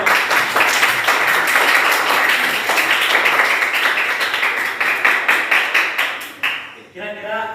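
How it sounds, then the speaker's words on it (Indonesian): A classroom of students applauds after a group presentation in a physics lesson, loud close clapping with individual hand claps audible, thinning into scattered claps before a voice begins at the end. "Silakan tepuk tangan dulu."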